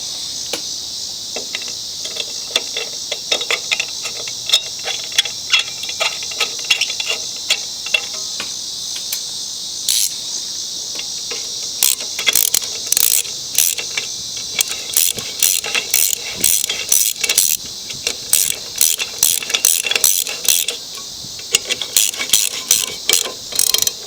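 Ratchet fastening the muffler back onto a Yard Machines lawn mower, loud close clicking strokes in steady repeated runs that grow denser and more rhythmic over time.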